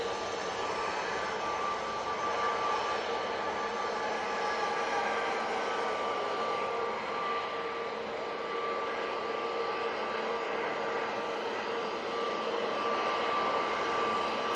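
Jet airliners at Manchester Airport produce a steady, distant broadband engine roar with a faint sustained whine, holding at an even level throughout with no speech.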